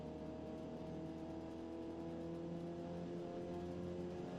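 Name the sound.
car engine on a Nurburgring night lap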